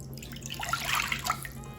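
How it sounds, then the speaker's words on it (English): A cup of water poured into a bowl for white dhokla batter, a brief close splashing pour that swells in the middle and fades, over a low steady hum, with no talking. "I have this bowl in which I'm going to add a cup of water."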